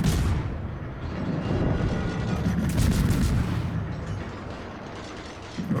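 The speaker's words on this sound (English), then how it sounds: "Here comes the salvo." Naval guns of the French tier-9 destroyer Mogador firing a salvo in World of Warships, a loud, booming rumble with rattling mechanical clatter rolling on for several seconds.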